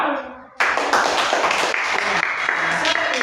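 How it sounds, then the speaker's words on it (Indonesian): Schoolchildren in an elementary classroom burst into loud, dense clapping for a group, starting abruptly after a brief voice and continuing steadily to the end. "tepuk tangan untuk kelompok 2"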